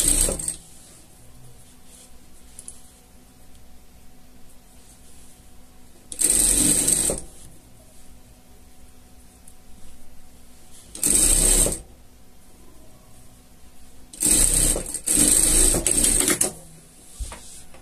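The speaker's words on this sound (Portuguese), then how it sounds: "E vamos passar uma costura aqui de fora a fora," A sewing machine stitches a seam across a small fabric pet slipper with lining and ribbing, in several short close bursts separated by quiet pauses.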